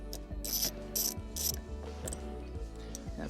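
A ratchet clicks in short bursts while loosening the seat bolts inside a Mini JCW, three quick rhythmic runs of pawl clicks up close, followed by softer handling sounds.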